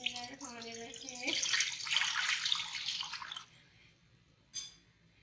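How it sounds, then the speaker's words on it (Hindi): Four cups of water pour into a wok for Kashmiri chai, a steady splashing stream lasting about two seconds and then stopping, with someone speaking briefly at the start and a short clink near the end. "उसके साथ साथ हम 4 कप इसमें पानी डाल रहे हैं।"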